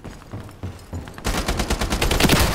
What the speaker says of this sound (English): the machine guns are hard to use